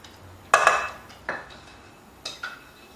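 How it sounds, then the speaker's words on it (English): A utensil stirs beef jerky marinade ingredients in a bowl, giving a few sharp clinks against the side, spaced out and fairly close, with quiet scraping between. "we're dissolving, mixing up all these nice ingredients. Get them all nicely blended in."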